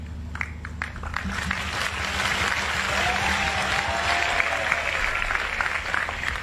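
An audience at a religious discourse bursts into applause that swells and holds steady, dense clapping following a brief stretch of voices at the start.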